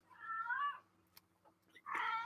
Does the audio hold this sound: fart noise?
no